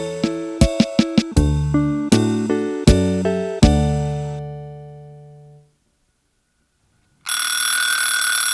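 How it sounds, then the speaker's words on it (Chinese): Alarm clock rings in a bedroom, a rapid run of bright metallic strikes followed by slower repeated rings that fade out, then silence before other sound resumes. "讨厌的闹钟。"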